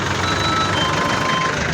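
Reversing beeps from a truck at a neighbourhood clean-up drive in a barangay, a faint steady tone repeating over loud broadband street and engine noise.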